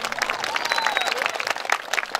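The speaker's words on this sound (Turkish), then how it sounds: "Şimdi gelin hanım babasına şöyle kuvvetli bir alkış yapabilir miyiz?" Guests at a village wedding clap for the bride's father, a brisk burst of applause with voices and a whistle-like tone over it, close and fairly loud.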